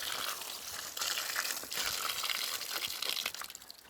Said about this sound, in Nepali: यो त पानीको धारा।